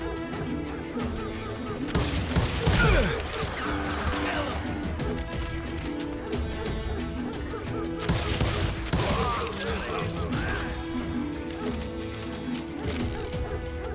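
A Call of Duty battle rages with dense fusillades of gunfire, crashes and mechanical clatter under a continuous droning game soundtrack. Heavier bursts come around the start and middle, and shouted voices occasionally cut in.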